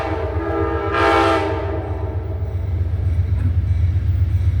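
Amtrak passenger train 80 rolls northbound through Collier Yard in Petersburg, Virginia, a loud steady low rumble of wheels and engine throughout, with a short horn blast near the start over the passing cars.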